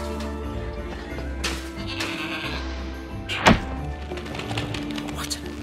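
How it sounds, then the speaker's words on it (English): A goat in the Trine 4: The Nightmare Prince video game gives one sharp bleat midway through, set over game music and ambience. A voice speaks around it. "What an amazing goat!"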